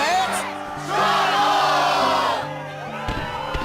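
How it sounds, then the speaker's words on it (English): Crowd cheering in the Kingdom Hearts II video game, a loud sustained roar of many voices with whoops and shouts swelling in the middle and easing off toward the end. "Yes, the crowd is fired up, so you know what comes next."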